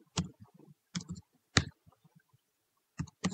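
Computer keyboard typing while coding in Python, heard as short bursts of close, crisp key clicks separated by pauses, in a quiet room.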